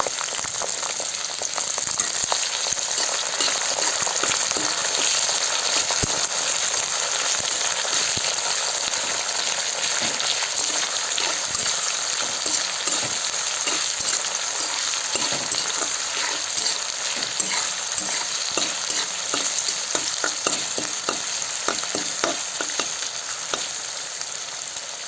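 Onions frying in hot oil for an Assamese dish, a steady dense sizzle with crackling pops and scattered stirring scrapes, loud and close throughout with no voices.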